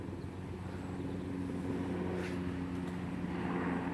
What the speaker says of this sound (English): I hear the chopper again.